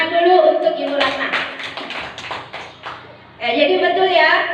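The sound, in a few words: applause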